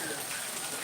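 Rain falling during flooding in Batam, an even, hissing wash of drops that stays steady and fairly loud throughout, with no clear talk.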